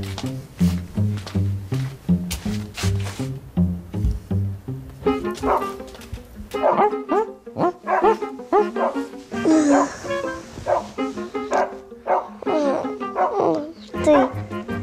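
A dog barks rapidly and repeatedly up close, then keeps yipping and whining while people talk over it.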